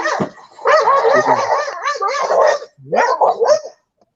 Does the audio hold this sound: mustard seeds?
no